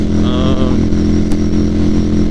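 Motorcycle cruising along Highway 71, a loud, steady engine drone with constant low rumble and wind noise close to the rider, holding an even pitch throughout.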